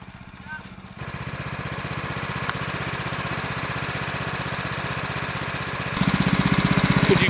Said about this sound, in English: We just needed to mill some wood.